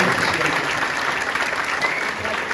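Steady applause from guests at an engagement party, a dense wash of clapping that holds evenly throughout with a faint crowd murmur beneath.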